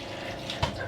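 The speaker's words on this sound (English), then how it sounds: "Water's coming out like crazy." Water pouring out of a leak in a 2015 Thor Vegas RV with water damage, a brief, steady splashing gush with one sharper splash near the end.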